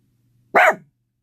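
A dog gives a single sharp bark, close and loud, after a moment of silence, then quiet again.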